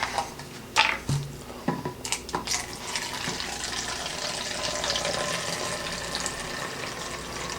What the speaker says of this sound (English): So I'm just gonna fill up this other bottle here.